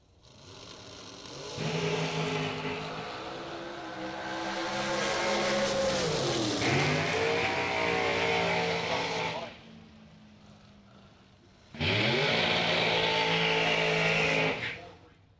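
Shorty dragster at a bracket drag race, its engine roaring in long sustained bursts with rising and falling pitch, loud and near, dropping away between runs before a final burst, with a voice faintly audible in the gaps.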